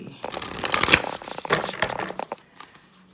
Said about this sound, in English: I'm gonna pull an oracle card